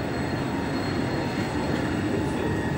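A train rumbles steadily nearby at Uppsala Central Station in Sweden, a continuous low mechanical drone with faint metallic hum and no voices.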